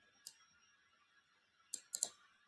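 Computer mouse clicks at close range: a single crisp click, a pause, then a quick burst of three clicks in fast succession, all alone against a faint electronic hum.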